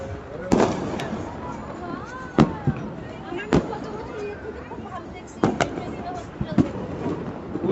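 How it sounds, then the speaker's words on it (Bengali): Fireworks bursting around a neighbourhood during a New Year's Eve celebration with sky lanterns being released: several sharp separate bangs, some near and loud, others fainter, over a steady bed of crowd chatter and babble. "চারিদিকে আতশবাজি ফোটানো হচ্ছে।"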